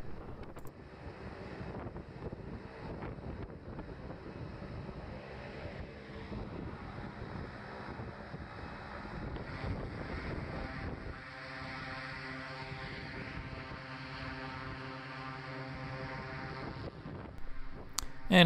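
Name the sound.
air blown across parking lot by running engine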